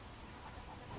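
A dense, steady hiss of heavy rain pours down continuously, a broadband wash with no talking.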